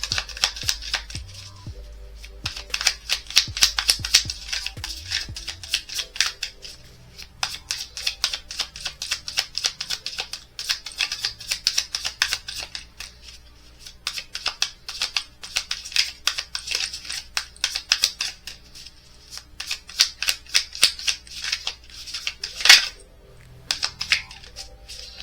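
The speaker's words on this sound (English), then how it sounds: "Let me shuffle these again." Tarot cards being shuffled by hand, a long run of quick crisp riffling and slapping bursts, close and fairly loud, with no talking over it.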